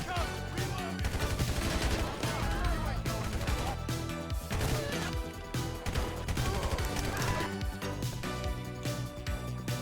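Rapid bursts of gunfire ring out in Grand Theft Auto V during a shootout with bikers, dense and loud, with repeated volleys and crashes over a busy game soundscape.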